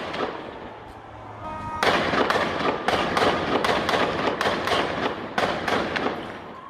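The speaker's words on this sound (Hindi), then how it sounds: "लेकिन इलाके में मौजूद ये लड़ाके लगातार फायर करते जा रहे हैं" Rifle gunfire from militants in a conflict zone near Gaza: a rapid string of sharp, cracking shots repeats after a quieter start, fairly close and loud, with no voices.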